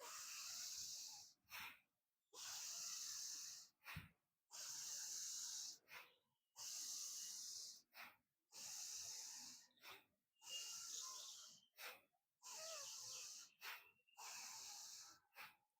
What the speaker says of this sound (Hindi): तो प्राणायाम क्या करना है, भस्त्रिका प्राणायाम। साँस भरने, छोड़ने हैं।